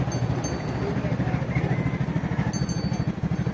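Several motorcycles idle and rumble at Balagbag Falls in a crowded spot, a steady low engine chug under people talking nearby.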